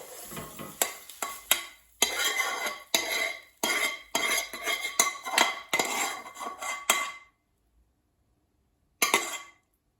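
Garlic chicken bhuna being plated up, with a rapid run of metal spoon scrapes and clinks against a pot and plate, then a pause and one last scrape.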